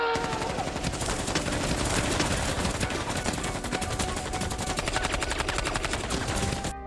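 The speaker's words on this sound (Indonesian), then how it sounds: "melepaskan tembakan dengan mesin deredel" Rapid, sustained machine-gun fire that stays loud and dense from start to finish, with no pauses.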